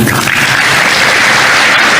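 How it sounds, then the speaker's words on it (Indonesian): A stand-up comedy audience in Indonesia claps in a dense, steady wash that stays loud and even for the whole two seconds, with no voice on top. "Coba yang bangga jadi orang Indonesia, tepuk tangan."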